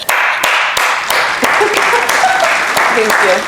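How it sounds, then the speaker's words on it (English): A round of applause greets a new guest on a casual podcast, steady clapping from a small group that runs for several seconds, with voices murmuring faintly beneath it. "Let's round of applause."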